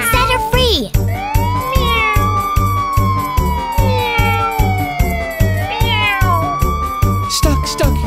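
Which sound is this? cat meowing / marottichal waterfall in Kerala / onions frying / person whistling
cat meowing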